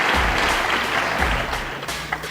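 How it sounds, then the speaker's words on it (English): Spectators at a world pool championship final applaud a great shot, a sustained, evenly spread patter of many hands clapping in an indoor arena, with no talk on top. "And Earl leading the applause."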